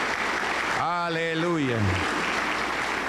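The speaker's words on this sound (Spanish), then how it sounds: "Aplauso para el Señor Jesús." Steady, dense clapping from a congregation at a Pentecostal church service in Cajamarca fills the room throughout, and a voice calls out briefly over the applause midway.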